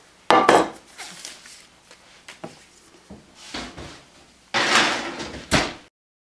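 An oven door opens and shuts as a pizza and garlic knots go in to bake, with loud close clanks and rattles of metal at the start and again near the end, and quieter knocks and scrapes in between.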